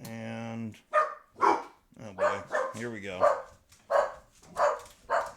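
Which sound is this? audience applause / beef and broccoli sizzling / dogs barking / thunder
dogs barking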